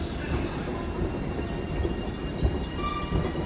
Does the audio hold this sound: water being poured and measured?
no